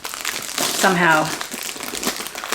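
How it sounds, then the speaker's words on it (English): A plastic sleeve crinkles and rustles as a vintage Chanel lambskin bag is pulled out of it, close and fairly loud, with a voice briefly speaking over the crackling. "I'm gonna take it out of the plastic bag now."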